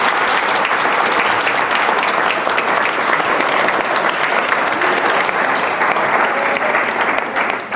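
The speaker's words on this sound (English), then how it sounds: "Can we give a big round of applause to all the family and the friends who were part of our" Sustained, dense applause from an audience at a fall student awards ceremony fills the room steadily for several seconds before starting to taper at the very end.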